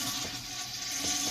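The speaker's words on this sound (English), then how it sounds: "It's going to keep flushing." An RV toilet in a Keystone Cougar 25RES travel trailer flushes while its foot pedal is held down, giving a short, steady rush of water up close.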